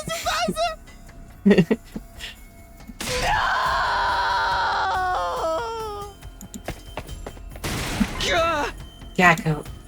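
A video game character lets out a long, ear-piercing scream. It is loud and wavering and lasts about three seconds, with shorter cries and sharp noises before and after it.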